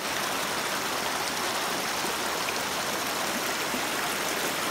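Steady running water flows from a pipe and splashes continuously at close range, a constant trickling rush with no voices.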